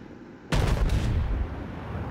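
Battleship North Carolina's main gun turrets fire in World of Warships, one sudden heavy boom with a rumbling tail that fades over about a second, loud and close, with no talk over it.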